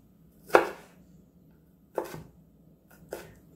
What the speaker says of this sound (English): I'm just going to be dicing it into small pieces